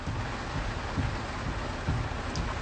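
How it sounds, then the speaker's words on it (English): Steady rain falls in a dense, even hiss, with a few soft low thumps rising briefly out of the continuous wash and no talking. "Baby, it's raining. It is raining."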